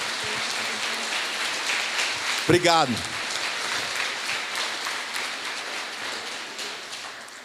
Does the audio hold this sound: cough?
no